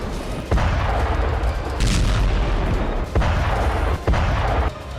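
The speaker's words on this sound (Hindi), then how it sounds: "शॉकवेव बॉम्ब के साथ लाल सेना ने यूक्रेनी आर्मी के खिलाफ थर्मोबैरिक रॉकेट स्ट्राइक किया।" Heavy booming blasts from a thermobaric rocket strike on Ukrainian army positions in the Russia-Ukraine war, several loud, dense rumbling explosions in quick succession with short gaps, no talk.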